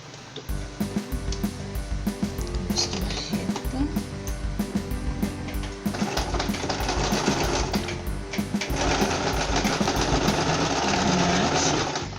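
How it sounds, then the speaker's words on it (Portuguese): A sewing machine runs steadily along the edge of a sleeved blanket, its fast rhythmic whir loud and close with no break across the whole stretch. "Sempre costurando bem na beiradinha para ficar preso."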